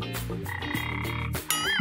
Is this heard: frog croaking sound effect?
yes